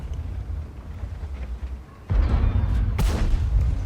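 Tank cannon fire from World of Tanks: a heavy, booming low-frequency blast hits around the two-second mark, with a sharp, loud second report about a second later, over a rumbling engine bed.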